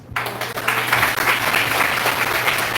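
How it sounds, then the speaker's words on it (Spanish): Sustained applause from an audience at an academic forum on teaching, dense steady clapping that starts abruptly and continues evenly throughout, close and fairly loud with no talk over it. "Demos un aplauso a la mesa número 1."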